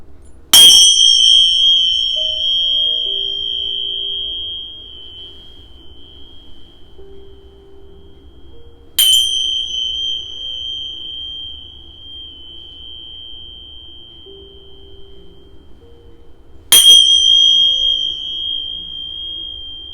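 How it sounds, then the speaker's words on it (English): A small bell is struck three times, several seconds apart; each ding is sharp and clear and rings on for a long time, with faint low background hum between strikes. "I'll just ding my bell a few times"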